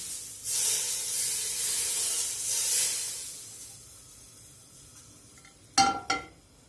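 Heated liquid poured over grated carrots seasoned with salt, sugar and garlic for Korean-style carrot salad gives a steady close hiss lasting a few seconds, fading away, then two sharp clinks of a utensil.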